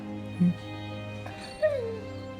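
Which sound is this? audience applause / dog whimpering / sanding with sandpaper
dog whimpering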